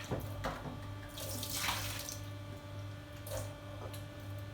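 Food is washed under a running kitchen tap, with water pouring steadily into a sink and brief splashes and squishes as it is rinsed, close and fairly quiet, with no voices.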